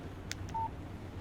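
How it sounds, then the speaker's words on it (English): A phone in the video game Alan Wake gives a short text message alert: a couple of quick soft blips followed by a clear electronic beep, faint against a quiet background. "Text message from Barry."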